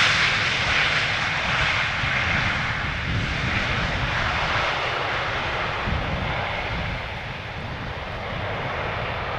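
Embraer 190 airliner arriving at Schiphol Airport, a continuous loud jet engine roar that holds steady and then eases slightly toward the end, heard alone with no voices.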